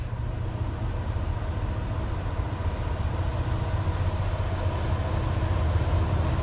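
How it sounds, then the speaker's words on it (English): A Ferromex EMD SD70ACe diesel locomotive rounds a bend on an eastbound track, a continuous low heavy engine rumble with steady broadband roar at moderate distance, no voices heard. "Something's chugging around a bend. We got an eastbound. Track 2 eastbound."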